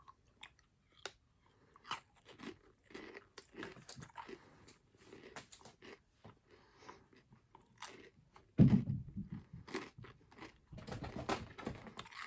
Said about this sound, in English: You got a crunchy little protein ball in there.